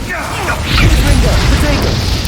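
A fire spell cast in Hogwarts Legacy lets out a whooshing burst with a low rumbling roar that swells and carries on steadily, loud and close.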